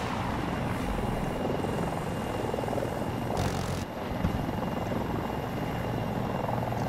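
A Mi-240 Super Hind helicopter in Battlefield 2042 thrums steadily with a dense rotor and engine roar that stays constant, with a brief burst of hiss partway through.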